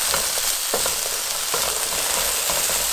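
Steady crackling sizzle of hash browns frying in a hot skillet, loud and close, with occasional soft scraping clicks.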